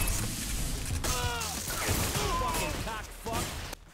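Gunfire in the video game 50 Cent Bulletproof, with rapid bursts of shots and mechanical clatter mixed with game voices, close and busy for a few seconds.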